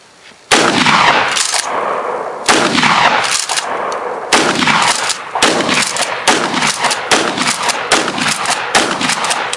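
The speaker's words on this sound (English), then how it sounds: "but I'm gonna shoot it, see what happens." Mossberg 500 shotgun fired outdoors at a jug, a run of loud sharp blasts in quick succession, about eight or more shots with short echoing tails between them.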